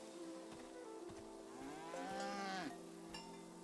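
A cow moos on a farm, one long, drawn-out, rising and falling call at moderate distance over quiet background, with no talking.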